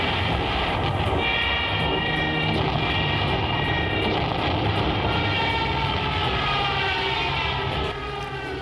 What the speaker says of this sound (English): The Stutka and Me-109 planes take control of the air and bomb all the Allied fronts